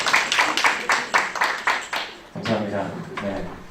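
Scattered, fairly regular clapping from a small audience opens a candidate debate for the chairperson election of the Seoul parents' association for people with disabilities, lasting about two seconds before a voice starts speaking.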